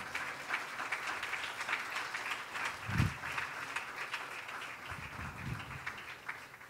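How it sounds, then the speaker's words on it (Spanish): Congregation in a church clapping continuously at a low, even level, with a couple of heavier thumps partway through. "Aplaude al Señor."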